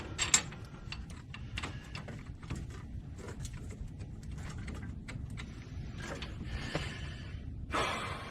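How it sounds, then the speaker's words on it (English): A ratchet wrench spinning hub bearing bolts into a 2014–2019 Chevrolet Silverado, with repeated quick clicking bursts of the pawl and metallic rattles, close and moderately loud over a quiet garage background. "Okay, all three bolts are started,"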